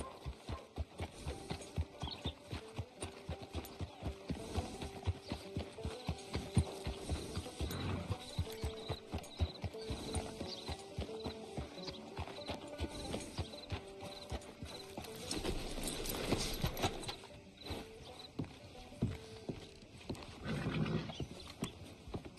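A horse's hooves clip-clop at a steady walking rhythm in the Red Dead Redemption 2 video game, close and clear over quiet outdoor ambience for the whole stretch.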